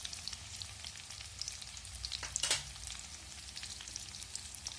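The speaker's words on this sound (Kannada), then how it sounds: "ಕರಿಬೇವಿನ ಸೊಪ್ಪು. ಒಂದು ಸ್ವಲ್ಪ ಕೆಂಪಗಾದ್ಮೇಲೆ ಸಾರು ಹಾಕೋಣ." Curry leaves sizzling in hot oil in a home kitchen pan, a steady soft crackle and fizz with a brief louder spatter midway.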